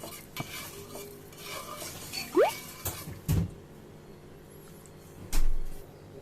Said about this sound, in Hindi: अच्छे से इसे मिक्स कर देंगे।